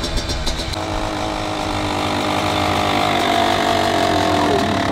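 2021 Kawasaki KX85 dirt bike engine idling too high, a loud, close, steady buzzing drone that holds constant throughout, with no talking.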